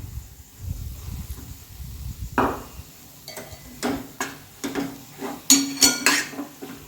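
Powdered sugar being mixed into potato sheera in a pan: a series of close spoon scrapes and clinks against the metal, growing more frequent and louder toward the end, no talking.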